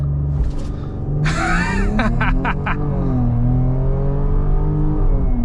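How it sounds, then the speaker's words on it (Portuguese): A Porsche Cayenne hybrid accelerates from 0 to 100 km/h on the road, its engine note steady and loud, rising through the gears with a short sharp tonal burst partway through. "nada mais justo que poder fazer um teste de aceleração num Porsche"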